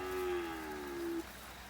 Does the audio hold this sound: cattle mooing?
yes